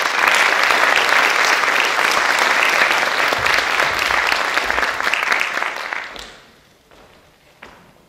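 A concert hall audience at a Turkish classical music state choir performance applauds the choir director coming on stage, loud dense clapping that holds for several seconds, then thins and fades to a few scattered claps.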